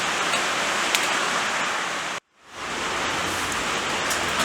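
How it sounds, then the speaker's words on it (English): Heavy rain falls outdoors in a steady, dense, hissing wash that briefly cuts out and then returns at full strength, with no voices. "rain's getting worse"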